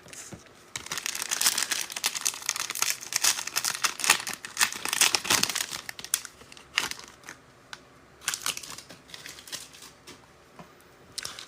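Trading card packs for an NFL card break being torn open, with bursts of crinkling foil wrapper and ripping, close and fairly loud, coming in uneven waves with quieter handling in between.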